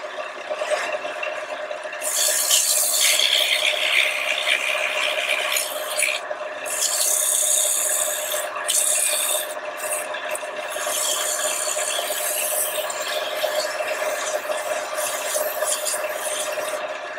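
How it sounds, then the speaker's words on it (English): Rhythmic rasping of sanding on a wooden box, in bursts of scrubbing strokes over a constant dust-collection hum, fairly close. "Let's do a little sanding."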